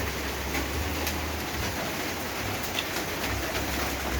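Rain falls steadily outdoors in a constant, even hiss of drops on surfaces, fairly loud and unbroken, with no talk.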